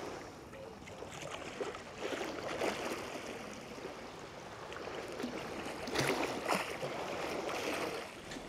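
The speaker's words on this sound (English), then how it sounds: "a close look at the sea, very, very calm" Calm sea at Blackpool, gentle water lapping and washing steadily close by, with soft surges and a constant hiss of light surf and breeze.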